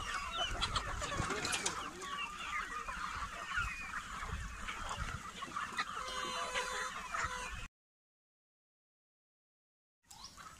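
Asil cross chickens clucking in a poultry yard, a busy, close flock with overlapping clucks and calls over steady outdoor noise, then a sudden silence of about two seconds before the sound resumes.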